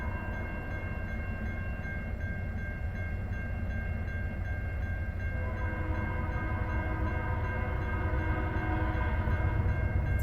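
A long CN freight train led by locomotive 3409 rumbles past at Ladysmith, Wisconsin at steady volume, with continuous low grinding and a sustained horn-like tone through the whole stretch.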